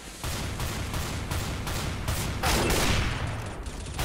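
Rapid gunfire in the CS:GO video game, with a dense string of loud, sharp shots fired in quick bursts across the whole stretch, swelling heavier near the end, with no talk over it.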